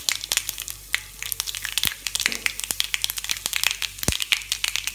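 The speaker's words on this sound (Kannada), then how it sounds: "ಬಿಸಿ ಎಣ್ಣೆಗೆ ಹಾಕಿದರೆ ಸಾಸಿವೆ ಬೇಗ ಒಡೆಯುತ್ತೆ" Mustard seeds pop in hot oil in a pan, crackling in rapid irregular snaps, sometimes sharp and loud, above a steady sizzle.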